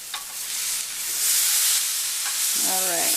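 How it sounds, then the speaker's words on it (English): Pork tenderloin sears in a hot pan with a steady, loud sizzle that lasts throughout and swells in the middle. Brief clicks and a short tonal scrape near the end suggest tongs or a utensil moving the meat. "you want to give it a nice brown crispy outside"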